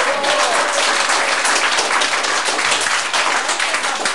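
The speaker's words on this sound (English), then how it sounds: "Come on, a round of applause for the judges." A crowd at a convention masquerade applauds the judges, sustained loud clapping from many hands that holds steady throughout, with no talk over it.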